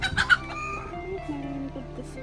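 Village free-range chickens cluck softly nearby in short, uneven calls, with light background noise and no talking.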